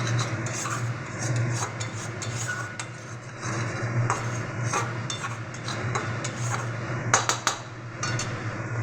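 Spices cooked down with meat masala and cumin powder in a pan, a spatula rasping and scraping steadily against the metal, close by, with a few sharper clinks near the end and no voices.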